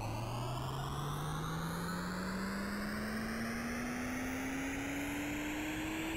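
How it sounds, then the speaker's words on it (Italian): An airplane taking off in the Commodore 64 video game Donald Duck's Playground, a synthesized engine drone that rises steadily in pitch, loud and unbroken throughout. "I bagagli vengono caricati sull'aereo, che a questo punto decolla."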